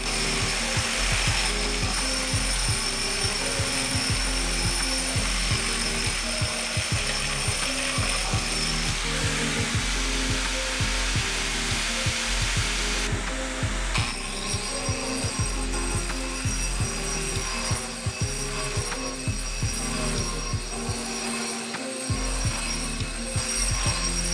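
A grinder polishes a concrete countertop with a dust collector attached, giving a continuous loud mechanical drone with a gritty, rattling texture that never lets up.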